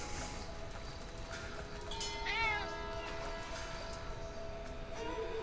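A cat meows in the video game GTA V, giving one short wavering cry in the middle over a steady game ambience of water and hum, with no talk.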